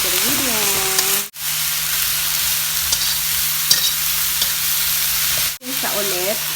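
Stir-frying mung bean sprouts and celery with pork gives a steady, close sizzle through the whole stretch, with two short dropouts and a little background voice.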